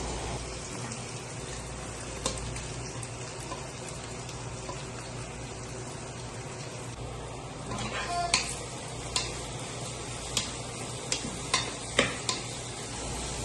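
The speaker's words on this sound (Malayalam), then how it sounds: "അതിലേക്ക് സവോള കട്ട് ചെയ്ത് വെച്ചേക്കുന്നത് ചേർത്ത് നന്നായിട്ട് വഴറ്റിയെടുക്കാവുന്നതാണ്." Chopped onions sautéing in ghee and coconut oil for a cooker chicken biryani give a steady, close sizzle, with sharper scraping stir clicks from a spoon toward the end.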